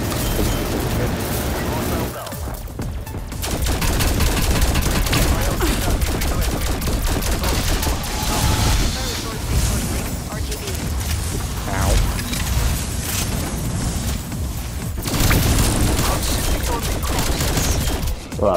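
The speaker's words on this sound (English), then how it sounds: "I'm shooting around you" Gunfire in the Call of Duty Zombies map Mauer der Toten, dense bursts of automatic shots and booms running almost continuously, loud and close, with players talking over it.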